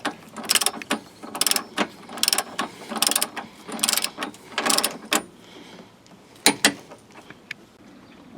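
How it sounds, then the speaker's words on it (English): Torque wrench ratcheting strut bolts tight during a front strut replacement on a Ford Escape or Mazda Tribute, in quick bursts of clicking strokes with short pauses between them, close and clear. "I'll go ahead and torque these to 35 foot-pounds here"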